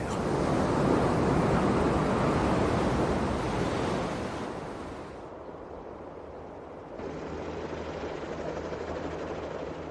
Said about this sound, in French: Il transforme la mer en une vaste marmite bouillonnante, traversée de vagues meurtrières.